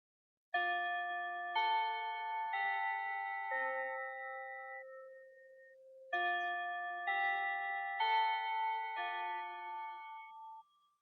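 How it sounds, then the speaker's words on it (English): A bell chime marks the end of a podcast episode with two clear, ringing melodic phrases of several bright tones each. The notes sound alone and fade gently after each run. "That bell means we've reached the end of today's episode."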